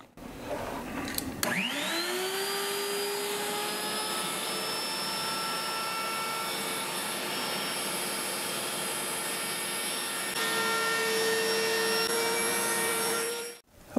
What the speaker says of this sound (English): now I've changed the router bit to a very small radius roundover bit, so I can just soften the bottom edge of the base plate